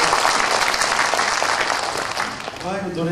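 A burst of loud crowd applause after a song at a book launch event, fading slightly toward the end, where a voice begins speaking.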